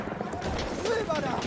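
Horse hooves clip-clopping at a gallop in the video game Battlefield 1, a steady running rhythm at moderate level under continuous game noise and someone talking over it.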